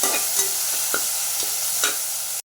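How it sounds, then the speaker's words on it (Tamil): Chopped tomatoes sauté in a hot pan for veg biryani and are stirred: a constant close sizzle with repeated scraping spoon strokes, then an abrupt stop, with no talking. "அடுத்து தக்காளி போட்டுக்கோங்க. தக்காளி நல்லா பேஸ்ட் மாதிரியே வரணும். நல்லா வணக்கிக்கோங்க 10 நிமிஷம்."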